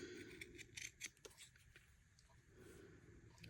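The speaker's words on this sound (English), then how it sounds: "And then I just trimmed it." Scissors snip felt to shape a small piece for a handmade snowman ornament, giving a quick run of sharp, close cutting clicks in the first half that then thin out to a few quiet snips over low background hum.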